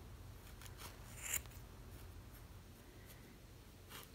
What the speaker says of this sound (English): Just put your scissors through and just start trimming.